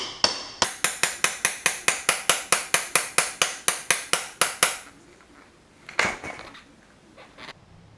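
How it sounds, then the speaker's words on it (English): A hammer taps an axle through a dirt bike wheel in a fast, even run of about twenty sharp metallic strikes, close and loud, then stops, with a single louder knock after a pause. "Just going to want to take a hammer"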